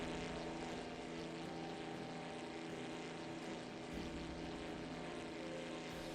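A seaplane's propeller engine drones steadily in flight in the game Brew Barons, a constant, full, even hum with layered harmonic tones and no voices.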